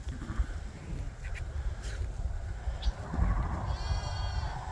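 Sheep bleat out on a pasture, a few bleats rising from a steady outdoor rumble, moderately close, with no talk.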